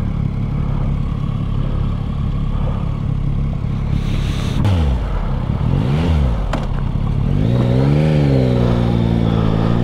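A Yamaha Tracer 9 GT motorcycle rides along a road in South West Scotland, its engine droning steadily under wind rush. It rises and falls in pitch through several gear changes and accelerations, loud and close throughout, with no voices.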